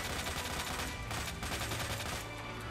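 Dense, continuous gunfire in Resident Evil 2 from rapid shots fired into a tough enemy, forming a loud, steady wall of blasts throughout.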